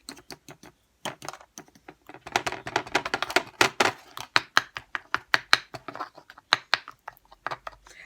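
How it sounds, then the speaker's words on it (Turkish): A whisk beating a banana fiber face mask mixture in a bowl, giving a fast run of sharp, close tapping and clicking strokes in irregular bursts with short pauses, with no talking. "Şöyle iyicene birbirine karış, karışsın. 2-3 dakika şöyle çırpın."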